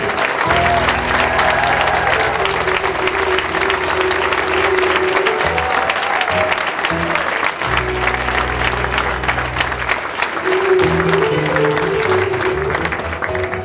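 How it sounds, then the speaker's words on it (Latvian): Loud, sustained applause from a large audience at a school anniversary concert, steady clapping for about fourteen seconds with music tones sounding underneath. "Un tagad aplausi vēl divreiz skaļāk."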